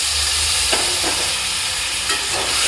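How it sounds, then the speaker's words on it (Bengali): Water poured into spice paste frying in a pan for a fish curry with drumsticks and potatoes gives a steady close sizzle, with brief hissing bursts as it hits the hot oil. "মশলাগুলো একটু শুকিয়ে শুকিয়ে যাচ্ছে, সেই কারণে একটু জল দিয়ে দেবো।"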